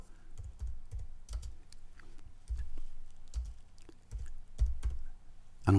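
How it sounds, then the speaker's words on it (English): Typing on a computer keyboard, quick irregular bursts of soft key clicks and taps close to the microphone, with short pauses between runs and no talking. "I'm going to just type."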